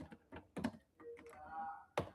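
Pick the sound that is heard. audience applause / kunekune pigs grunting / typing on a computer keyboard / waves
typing on a computer keyboard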